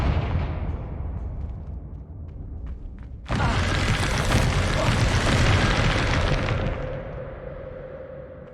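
A Confringo spell explosion in Hogwarts Legacy erupts suddenly with a loud, broad blast that roars for a few seconds before fading into a lingering rumble.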